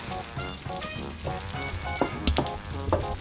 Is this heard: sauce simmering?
yes